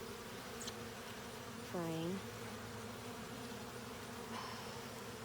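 Bees buzz around a hive during handling, a steady insect drone throughout with a brief louder buzz passing close, while a voice speaks briefly.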